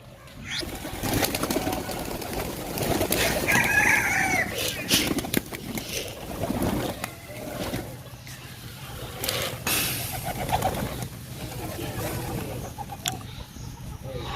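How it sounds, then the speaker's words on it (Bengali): Homer pigeons feeding in a loft, with coos, soft flutters and scattered clucking-like calls close by, mixed with handling noises and occasional talk. "কবুতরগুলো খাবার খাচ্ছে"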